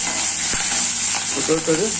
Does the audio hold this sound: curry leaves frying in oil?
yes